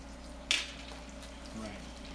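Onions gently cooking in a pan as the base of a tomato sauce, a soft low sizzle underneath with one brief clatter near the start.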